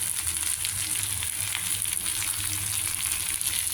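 Capsicum curry with ginger, green chilli and coriander paste simmers in a pan, giving a steady, even sizzle and hiss that runs unbroken and fairly close, with no voices.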